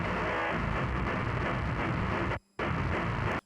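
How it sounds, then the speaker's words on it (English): Dense, heavily distorted low guitar chugging, a take blended with a copy pitched down an octave, thick and rumbling, cutting out briefly for a beat before resuming, loud and close with no voices. "Blending in a lower octave of the same guitar take."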